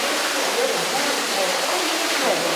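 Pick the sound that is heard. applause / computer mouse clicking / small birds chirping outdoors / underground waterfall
underground waterfall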